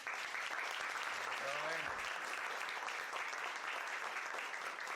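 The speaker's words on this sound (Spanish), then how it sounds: "les pido un aplauso" An audience applauds steadily at a talk, a dense even wash of clapping holding at a constant level throughout, with a brief low tone sliding in near the start.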